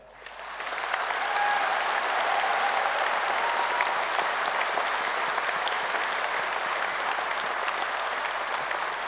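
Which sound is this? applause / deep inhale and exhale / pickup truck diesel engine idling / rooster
applause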